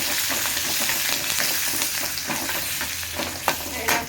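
Curry leaves and turmeric sputter in hot oil, a loud, close sizzle with crackling pops and spoon scrapes, a few sharper spits near the end.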